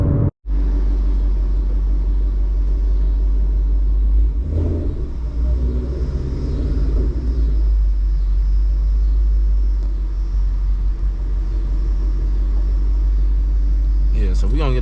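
A 500HP Ford Mustang GT rumbles loud and deep from inside the car while driving, a heavy continuous low growl with a brief rev swell partway through; someone talks over it.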